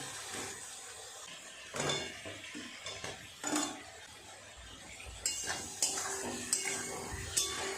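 Fried potato and pointed gourd are stirred into a spice paste in a pan, with repeated scraping and clacking of a spatula against the pan over a soft sizzle, strokes coming at irregular intervals.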